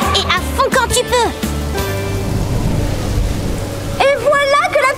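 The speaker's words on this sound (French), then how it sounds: "Et voilà que la pluie s'invite." Rain pours steadily during a cartoon car race, a dense hissing wash that rises to fill the middle of the clip, with cartoon voices talking over it at the start and end.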